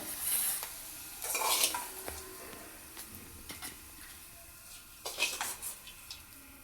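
Capsicum (shimla mirch) being stirred in a pan, with soft sizzling under repeated scraping and clinking of a utensil against the metal, close and moderately quiet, with no talking.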